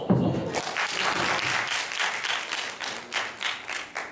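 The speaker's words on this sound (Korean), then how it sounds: "박수 한번 쳐서." A lecture audience claps together for a volunteer in a steady wash of applause lasting several seconds, close and fairly loud, tapering slightly toward the end.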